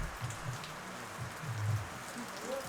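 Heavy rain pours down outdoors and is heard from inside a dining spot in Baguio as a continuous patter, with muffled low clatter and thumps nearby.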